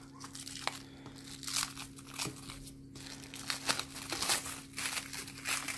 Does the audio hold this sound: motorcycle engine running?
no